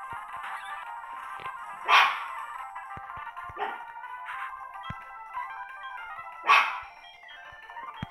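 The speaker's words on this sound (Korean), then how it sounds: "자, 지금 저희개가 짖고 있어요." A pet dog barks a few times at a distance, two sharp louder barks about four seconds apart with fainter yips between, over a quiet tonal background.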